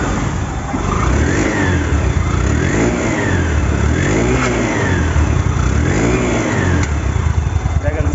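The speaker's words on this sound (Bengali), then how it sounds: "দেখেন বাইকটি সাউন্ড কোয়ালিটি শোনাবো।" A second-hand motorcycle engine in showroom condition is revved up and let fall four times in a steady rhythm, loud and close, each rise and drop clearly swelling.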